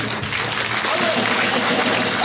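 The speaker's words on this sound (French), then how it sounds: "Bravo, applaudissements encore." Dense, steady applause from an audience fills the hall at the grand finale of an accordion festival in Saint-Amand-sur-Sèvre, with no break across the short stretch.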